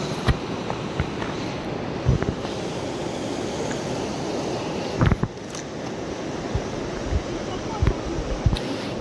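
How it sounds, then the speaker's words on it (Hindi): The Ganga river surging and splashing upward against its banks, a constant rushing roar of churning water with scattered sharp splashes and knocks over it, fairly close and steady throughout. "पानी का जो उछाल है ऊपर की तरफ आ रहा है"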